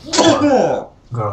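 A single short sneeze in a Star Wars: The Old Republic session on a Hammer Station flashpoint, a sharp burst followed by a brief voiced tail, close and loud, with a spoken word right after.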